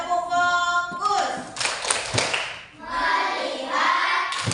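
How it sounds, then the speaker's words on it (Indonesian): A class of schoolchildren does a rhythmic focus-clapping routine, with bursts of many hands clapping in patterned groups interleaved with voices chanting and a teacher-led call, close and lively. "Kita coba tepuk fokus."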